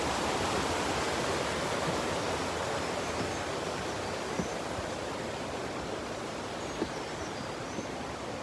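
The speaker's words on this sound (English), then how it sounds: "And there is the waterfall." Waterfall in Cat Cat Village, Sapa, Vietnam, a steady dense rushing roar of falling water, constant and fairly close, with a couple of faint clicks or knocks in between.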